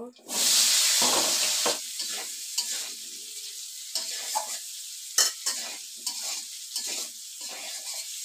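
Potatoes hit oil left from frying fish with a loud burst of sizzling that settles into a softer crackle, broken by repeated sharp scraping and stirring knocks from a utensil in the pan.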